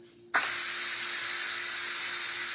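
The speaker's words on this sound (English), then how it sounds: "That is the quick release on the steam." Steam from an Instant Pot quick release bursts on abruptly and keeps up a loud, steady broadband hiss with no break, close to the listener.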